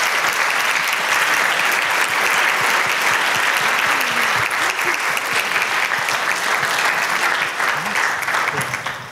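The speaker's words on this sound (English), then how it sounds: "please join me with a big round of applause for Professor Denise Moore" An audience gives a big, loud round of sustained applause for a professor after a talk, the dense clapping holding steady for about nine seconds before beginning to fade.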